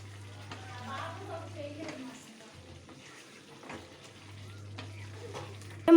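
A spatula stirs chilli powder through a spicy Telugu curry in a pan, with a scraping, sizzling mix over a low steady hum and faint muffled voices.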